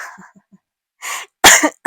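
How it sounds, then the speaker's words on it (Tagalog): One person coughs twice in quick succession, close and loud, after a few faint breathy sounds and a short silence. "Umubo lang."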